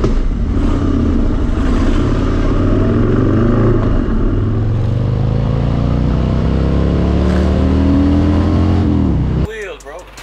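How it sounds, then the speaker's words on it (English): A quad ATV engine revs loud and close, a steady roar with a climbing pitch that holds for about nine seconds before it cuts off abruptly. "We're out riding one of the quads that he has already."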